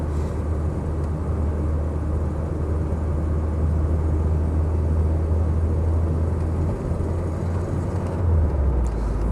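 A white Mark 1 VW Golf GTi 1.8 Cabriolet drives along with a steady low engine drone and road rumble, loud and continuous, shifting into fourth near the end with a brief dip in the hum.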